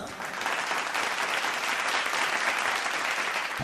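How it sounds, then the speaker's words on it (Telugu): A studio audience at a Telugu TV singing competition show claps continuously, a dense steady wash of applause at fairly close range lasting the whole stretch. "సో ఫస్ట్ ఇది ఒకసారి చప్పట్లు వేసేసుకుందాం."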